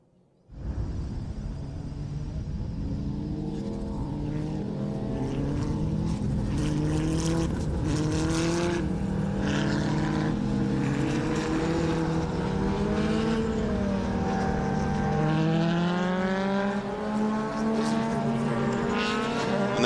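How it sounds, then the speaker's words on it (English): A Wolf Formula 1 race car at The Bend circuit roars continuously for about twenty seconds, a loud, rich engine note rising and falling as it revs, close and with no voices over it. "Now you can tell this one, it sounds like a Can-Am car"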